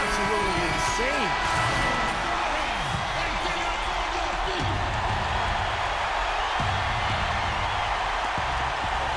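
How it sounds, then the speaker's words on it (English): Basketball arena crowd roaring loudly during a close Mavericks–Wizards NBA game, a constant dense wall of cheering and noise that carries on throughout, with sneaker squeaks and commentary voices faintly beneath. "Now the crowd's really getting into it. Listen to that. It is shaking in here, guys."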